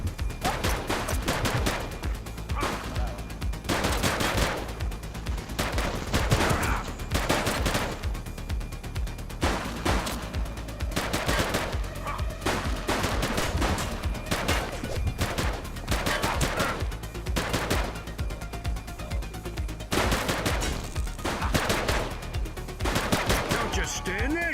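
Heavy gunfire in a police shootout in the video game The Precinct: dense bursts of automatic and single shots crackle continuously and loudly for the whole stretch, with faint voices now and then under the firing.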